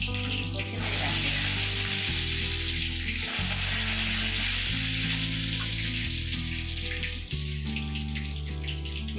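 Mustard seeds, cumin and curry leaves sizzle steadily in hot oil for a tempering, a loud, continuous crackling hiss that runs throughout over shifting background music tones.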